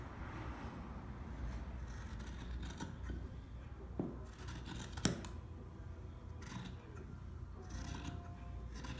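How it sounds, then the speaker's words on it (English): Scissors cut through two layered t-shirts, producing faint crunching snips under a steady background rumble, with one sharper cut standing out midway. "Lines marked, I'm going to go ahead and cut through both of the shirts."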